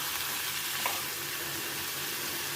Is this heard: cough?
no